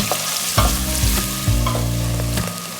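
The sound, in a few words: onions frying in a pan for moussaka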